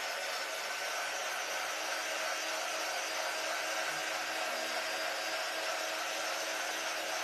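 A hair dryer blows steadily to dry paint on a painted raven figure, a continuous close whooshing hum that holds evenly throughout with no talking.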